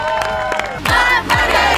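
Crowd at a hotel summer camp event on a Riviera Maya beach cheering and shouting in loud bursts, close and energetic, with little distinct clapping.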